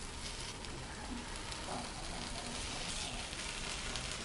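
Appam frying in a pan gives off a steady, dense sizzle that stays even throughout, with faint scraping as it is flipped.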